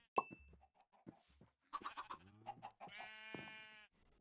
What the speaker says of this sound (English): Oh, it's a cold chicken.